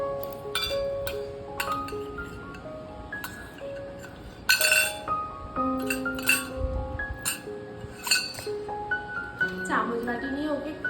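Spoon clinking against a bowl while someone eats, sharp bright clinks repeating at irregular intervals throughout, with musical tones and a voice talking in the background.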